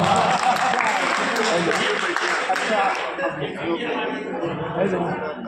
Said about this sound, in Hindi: अपने लिए तालियां बजाइए एक बार जरा